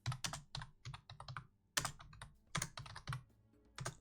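Fingers tap out bursts of keystrokes on a computer keyboard, close and crisp, in irregular clusters with short pauses between them.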